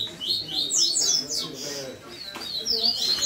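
Bright chirping birdsong, repeated whistled phrases rising and falling, fairly close, with a low murmur underneath.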